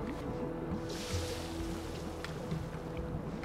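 Stormy water surging in the video game Unravel, a steady, full-bodied wash of waves with gusty wind, continuous and fairly close, with faint tonal music beneath.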